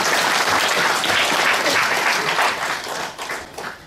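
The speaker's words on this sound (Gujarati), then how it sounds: "જોરદાર તાળીઓ વધાવજો." At a felicitation ceremony during a Bhagvat gathering, a crowd claps loudly and steadily, then the applause thins and fades toward the end.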